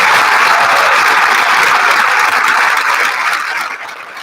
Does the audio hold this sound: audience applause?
yes